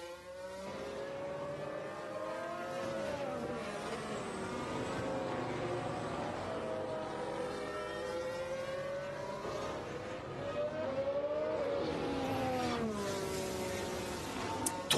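Valtteri Bottas's Formula 1 car in qualifying at the 2021 Hungarian Grand Prix, with DRS open on a flying lap, its engine droning and rising and falling in pitch through gear changes, steady and sustained with no talking.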